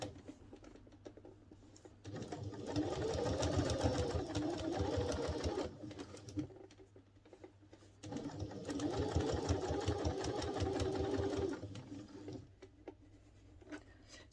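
A sewing machine stitches along bias binding in two long runs, each about four seconds of rapid, even needle chatter, separated by a short quiet pause and soft handling noise.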